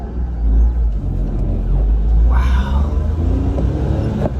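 Slammed ES1 Honda Civic pulling away in first gear, a loud low engine rumble from inside the car with a brief rising rev partway through.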